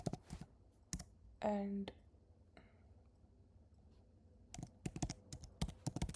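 Typing on a Mac computer keyboard, quick close clusters of clicks at the start and again near the end, with a brief spoken word and quiet pauses between.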